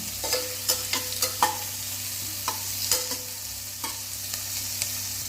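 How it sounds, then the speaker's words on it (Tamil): Green beans being stirred and sautéed in a pan for vegetable sambar, with a steady sizzle under repeated scraping clicks of a spoon against the pan and no talk. "அதையும் சேர்த்து ஒரு பிரட்டி விட்டுக்கலாம்."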